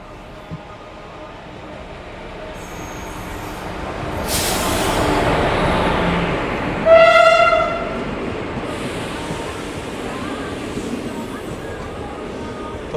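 Train arriving at Tenali Junction railway station in southern India, a broad rumbling rush of rail noise building to a loud passing swell with a brief horn-like tone, then steady rolling continuing on a platform with background voices.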